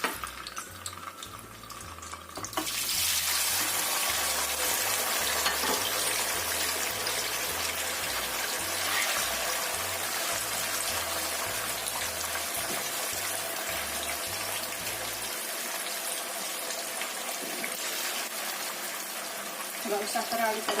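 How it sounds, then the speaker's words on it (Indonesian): Tofu dropped into hot oil sets off a sudden loud, dense sizzle and crackle that holds steady for many seconds, with a low rhythmic background hum in the first part. "Kita goreng tahunya."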